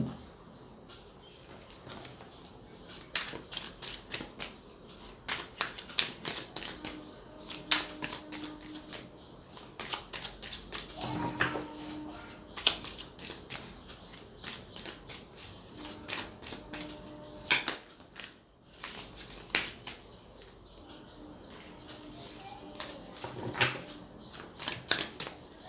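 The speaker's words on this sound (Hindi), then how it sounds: "बॉटम ऑफ द डेक हमारे पास है" Tarot cards being shuffled and handled: steady soft riffling and crisp card snaps at close range across the whole stretch, with faint background sounds and no speech.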